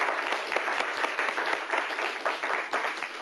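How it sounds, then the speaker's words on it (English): A quiz-show audience gives steady, dense applause for both competing school teams, a continuous crowd of clapping hands sustained for a few seconds at moderate loudness. "Nice round of applause for both of our teams."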